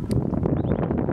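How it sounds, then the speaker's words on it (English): Strong wind gusting on an exposed hillside near a tree at dusk, heard as a loud, steady rumbling buffet across the microphone with brief rustling, close and unbroken, with no talking. "the wind is actually really starting to pick up here"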